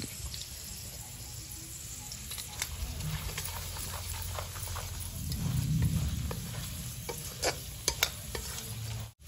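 Ground spices (turmeric, Kashmiri red chili, coriander and black pepper powders) being stirred in a hot frying pan for samosa filling, a steady close sizzle with scraping spoon strokes and a few sharp clinks toward the end.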